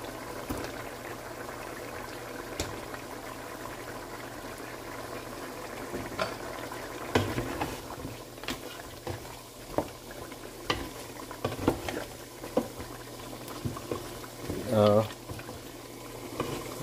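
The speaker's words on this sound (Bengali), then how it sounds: "আর বিফ আলুর ঝোলটা রান্না হচ্ছে" Beef and potato curry boils in a pot with a steady bubbling, broken by occasional stirring clatter and louder bursts of bubbles near the end, close and moderately loud, with a voice talking now and then over it.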